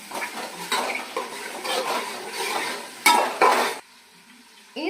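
A spoon scrapes and clatters against a pan while beef curry ingredients with crushed garlic are stirred, a series of close, rhythmic scraping strokes over a soft sizzle, ending in two sharp knocks and a quiet pause.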